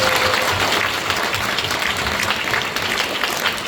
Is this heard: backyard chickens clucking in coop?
no